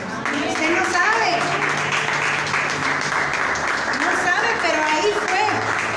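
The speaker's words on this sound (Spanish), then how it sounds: "Yo quisiera que usted le dé un aplauso al Señor" Congregation applauding during a Spanish-language church sermon, a steady sustained wash of clapping from the room that runs under a preacher's continuing speech throughout.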